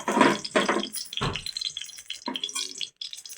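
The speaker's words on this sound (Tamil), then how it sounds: "தேவையான பொருள் எண்ணெய் ஊற்றணும்." Cooking oil poured into a pan to start aval upma, heard as a few short splashy pouring bursts, close and moderately loud, with brief quiet gaps between them.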